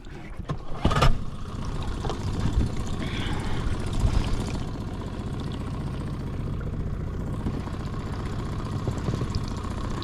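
A small inflatable boat's outboard motor idles steadily on a quiet Cornish river while warming up, a close, continuous low engine drone with a brief louder knock near the start.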